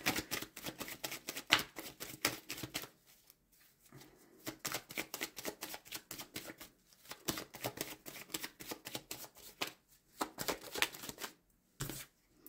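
Tarot cards being shuffled and drawn, a close, quiet run of rapid riffling flutters in bursts separated by short pauses, with no talking.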